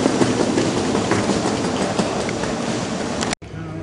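Train from Amsterdam to Berlin heard from inside the carriage, a loud continuous rumble and rush of wheels on track with faint rhythmic clatter, cutting off abruptly near the end.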